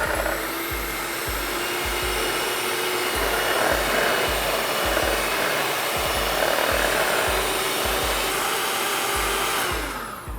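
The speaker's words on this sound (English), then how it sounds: "You're gonna whisk it until it gets light in color." An electric mixer on high speed whisks egg yolks for homemade eggnog, giving a steady close motor whir with regular clicking beats of the beaters against the bowl and no talking.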